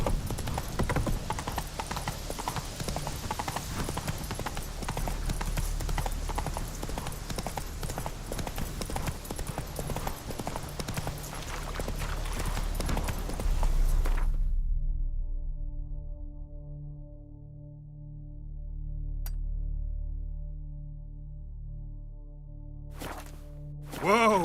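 Roach, the horse in The Witcher 3: Wild Hunt, gallops with rapid, steady hoofbeats under a game music and ambience bed, then the hooves stop abruptly, leaving quiet ambience and a few faint sounds.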